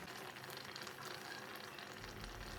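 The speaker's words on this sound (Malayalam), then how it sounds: "ഇനി നമുക്ക് അടച്ച് വെച്ചിട്ട് കുറച്ച് നേരം ഒന്ന് കുക്ക് ചെയ്തെടുക്കാം." Squid roast masala, Kerala-style kanava roast, frying in a covered pan, giving a faint, steady sizzle and crackle that runs continuously with no voices, slightly fuller and lower toward the end.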